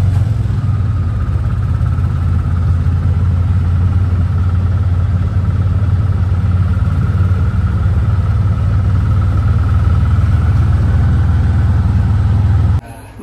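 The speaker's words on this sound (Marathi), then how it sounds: "रिदान गाडी चालवते." A car engine running while driving, a steady low rumble with a constant hum, loud and unbroken until it drops away abruptly at the end.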